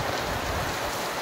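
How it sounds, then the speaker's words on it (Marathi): Steady rain falls at night around a house near a forest in Kudal, a dense, even hiss of drops on surfaces with no other sounds. "पाऊस पडत आहे."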